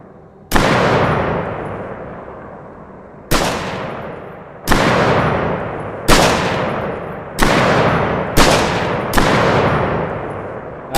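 Heavy single gunshots ring out in a space survival game, six loud blasts at irregular intervals, each with a sharp attack and a long echoing decay and no talking between them.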